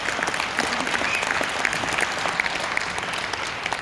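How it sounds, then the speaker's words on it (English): A conference audience at the ASEA 2019 annual conference claps in steady, dense applause, loud and sustained for a few seconds. "You can clap all you want."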